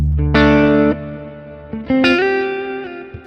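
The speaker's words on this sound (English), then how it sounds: "Cave, which is also a big reverb." Guitar notes ring through a pedal's Cave reverb setting, two sustained chords with a big, spacious tail between them, loud and alone.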